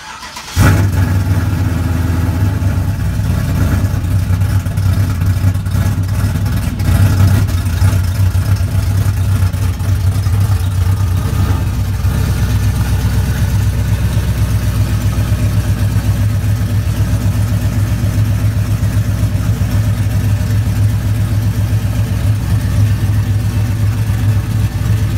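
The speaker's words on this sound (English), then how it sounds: "I'll let you guys listen to that engine before I close this one off" Car engine starting and running after a rear drum brake job, loud and close, settling into a steady idle with a few light revs, no talk over it.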